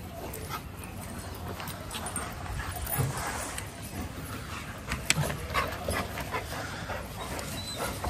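A Rottweiler whimpers and gives faint yips against a noisy, rustling background, soft and somewhat distant, with no clear speech.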